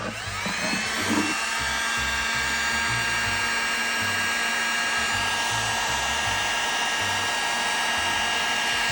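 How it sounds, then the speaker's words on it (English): A heat gun runs continuously to warm the screen of an iPhone 8 Plus for repair, giving a steady, loud, close blowing whir with a faint motor hum and no pauses. "this is where the heat gun comes in, I guess"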